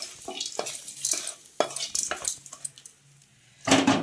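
A spoon scrapes and clinks against a pan while curry leaves are stirred into nalleru chutney, with irregular close metallic strokes and a faint sizzle, ending in a louder clattering scrape.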